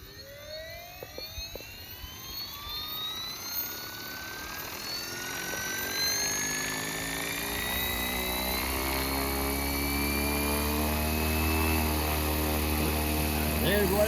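An RC Airwolf model helicopter spools up its electric motors, a rising whine climbing steadily in pitch and loudness into a sustained, layered rotor drone, heard close and alone without talk.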